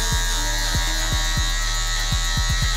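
Electric hair clipper buzzing steadily and close while cutting a self-done high top fade on dreadlocked hair, with repeated short strokes and no talk.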